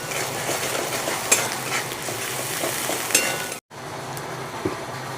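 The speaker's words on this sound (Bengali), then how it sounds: "1/2 চামচ লঙ্কার গুঁড়ো দিয়ে ভালো করে আমি মশলাটা কষিয়ে নেব।" Ground spice masala of turmeric, cumin, coriander and chilli powder sizzles steadily as it is stir-fried in a pan for a hilsa fish curry, with scraping stirs and a few spoon clinks, briefly cutting out near the end before resuming.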